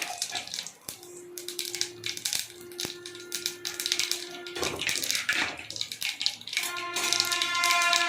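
Mustard seeds crackle and pop in hot oil in a pan while cooking a poriyal alongside sambar, with dense irregular spluttering bursts throughout, steady tones in the background.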